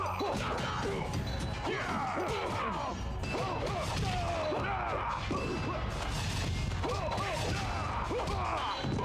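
Smashing Elbow move hits in Mortal Kombat Deception: repeated loud impact crashes and thwacks over busy game background audio, with grunting voices and effects in quick succession.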